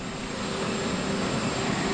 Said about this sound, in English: all the media are getting onto those 3 Ospreys that already have their propeller blades spun up